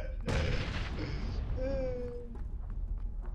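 Gunfire in the battle royale game PUBG: a loud burst of shots and booms at the start, followed by sustained rumbling game noise and tonal effects, with excited voices talking over it.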